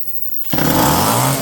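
A blue Homelite EZ chainsaw with a carburetor needing attention catches briefly after a quiet moment, roaring up loud and sputtering for about a second.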